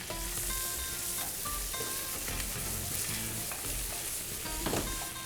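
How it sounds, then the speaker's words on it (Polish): Steady sizzling of onion and eggplant frying in olive oil in a hot pan, a dense crackling hiss with occasional stirring clinks and scrapes. "Na rozgrzaną patelnię wlewam porządny chlust oliwy i przesmażam cebulę."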